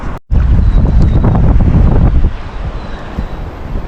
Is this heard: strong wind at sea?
yes